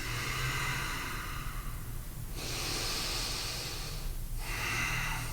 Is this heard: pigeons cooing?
no